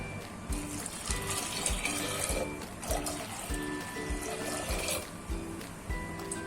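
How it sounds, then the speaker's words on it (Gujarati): Two cups of water run and trickle steadily into a pot of fenugreek seeds nearby, with faint clinks of metal over the continuous flow. "બે કપ પાણી ઉમેરીશું"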